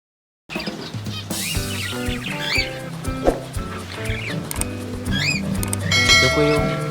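Pet cockatiels, including a lutino male and his female mate, give a few short, rising chirps over steady background music.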